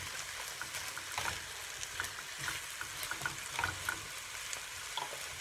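Garlic fries with onions and pork loin in a pan, a constant close sizzle broken by repeated scraping stirs and small spatters, fairly quiet with no talking.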